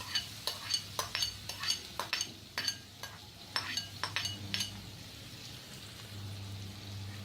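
Onions with asafoetida and turmeric stirred in a pan, a spoon scraping and clinking against the metal in quick irregular strokes over a faint steady hum, fairly close and alone.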